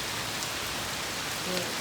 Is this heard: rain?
yes